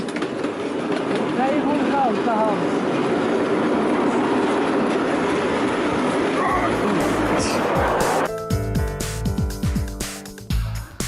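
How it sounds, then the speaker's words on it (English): A miniature railway train in Switzerland rumbles steadily along the track, loud and close, then clanks and rattles as it slows, with a dog barking faintly at one point. "Here we are on a tiny miniature railway by some road in Switzerland."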